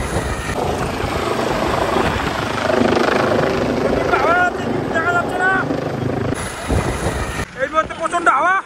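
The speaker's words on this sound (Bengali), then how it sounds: "এই সিগন্যাল দেখে হেলিকপ্টার এসে পড়বে" A helicopter landing at a helipad during a trial run for a chief minister's programme at Nagurur Hat roars loud and close with heavy rotor wash and wind buffeting. Voices call out over the din near the end.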